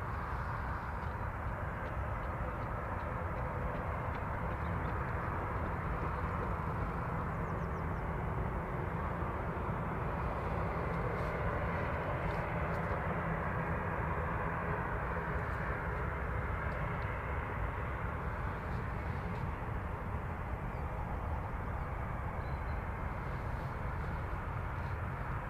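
EasyJet airliner taking off for Barcelona at Birmingham Airport, its jet engines a steady, broad distant roar lasting throughout with no voices.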